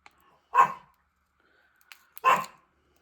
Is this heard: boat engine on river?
no